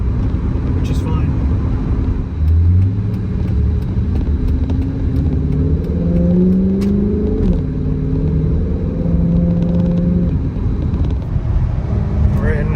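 A Dodge Charger with paddle shifters pulls hard through second, third, fourth and fifth gears, its engine note climbing and dropping with each shift, loud and close under steady talk.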